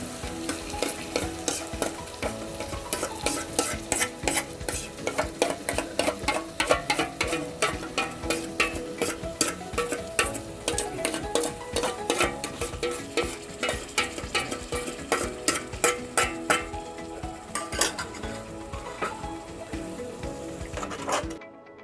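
Curdled milk stirred into a pan of egg biryani base, a continuous close frying sizzle under rapid, regular spoon scrapes and clinks against the pan that run steadily throughout.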